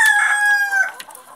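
A single loud rooster crow, close and drawn out, fading after about a second, from a backyard flock of chickens kept for meat in the early morning.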